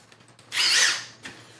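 A DeWalt XR cordless impact driver, compared against a Milwaukee Fuel, drives a greased screw in one loud burst of about three-quarters of a second, followed by a shorter second burst.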